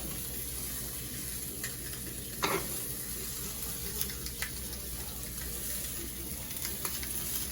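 Onions sizzle steadily in a pan for hot dogs, a constant close crackle of frying with a few small clinks and scrapes of utensils over it.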